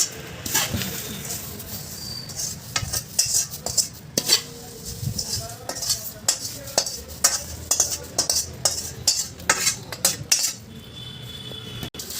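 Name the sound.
mixing poha chivda by hand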